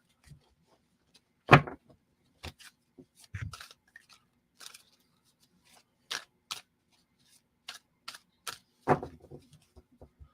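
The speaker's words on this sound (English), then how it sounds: "I'm going to start shuffling the deck to cleanse it off for Jing here." Tarot deck being shuffled by hand: sparse, crisp snaps and riffles of cards at irregular intervals, close and fairly quiet, with silence between bursts.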